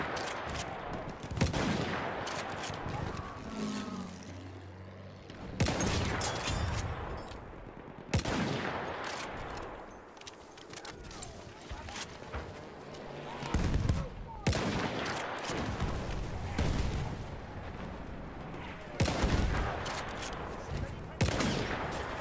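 Battlefield 1 gunfire: repeated close sharp shots and bursts of automatic fire with distant rumbling explosions, loud and irregular, with a voice speaking over parts of it.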